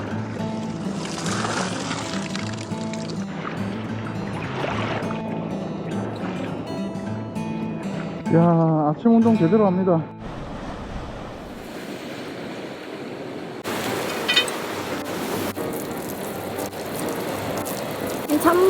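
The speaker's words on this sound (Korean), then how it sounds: "파도가 높아서 하기 힘드네." Rough winter waves on the East Sea coast surge and wash against the shore at dawn, a continuous roar of surf and water with wind. Someone talks over it in the middle section.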